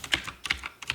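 Quick bursts of typing on a computer keyboard while entering a search into a web browser, several short clusters of close, crisp key clicks with brief pauses between them.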